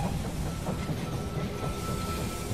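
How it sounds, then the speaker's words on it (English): A train pulling into a station in the video game They Are Billions, a continuous rolling rumble with faint clickety-clack of wheels and a steady metallic hum, heard alone without voices. "The train has arrived at the station."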